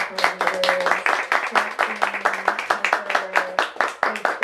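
An audience at an anthology reading claps in a lively, uneven burst of many hands, fairly close, with a voice speaking over the applause.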